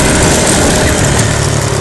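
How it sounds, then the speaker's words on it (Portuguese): A small motorcycle engine, tuned by a carburetor shop, idles and warms up before riding on a track. It makes a steady, loud, buzzing drone with no pauses for the whole stretch. "Ele vai esquentar o motor pra poder andar na pista."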